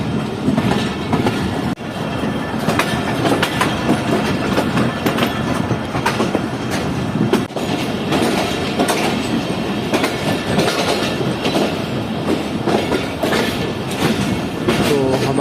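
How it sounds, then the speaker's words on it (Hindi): Karakoram Express train pulling into platform 1 at Hyderabad Junction, running about 16 minutes late, with steady rolling wheel clatter and rhythmic clicks over rail joints, loud and continuous throughout. "हमारी ट्रेन जो है पहुंच चुकी है फाइनली हैदराबाद जंक्शन के प्लेटफॉर्म नंबर 1 पर"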